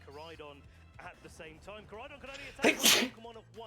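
A single loud, close sneeze bursts out midway through continuous commentary from people talking during a live Pokemon Scarlet & Violet tournament stream.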